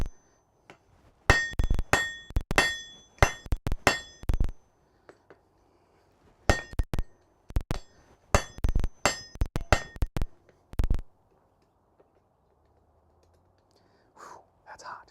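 A hammer strikes hot metal in a smithy in quick bursts of sharp ringing clangs, several groups of blows separated by pauses, with faint breathing or whispering between them.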